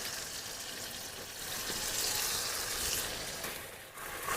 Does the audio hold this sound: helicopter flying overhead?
no